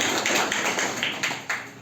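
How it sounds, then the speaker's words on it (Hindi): Audience applause at a teacher training session in Samastipur, with a broad wash of many hands clapping steadily, moderately loud and fairly close, with a few sharper swells near the end. "ताली बजा दीजिए।"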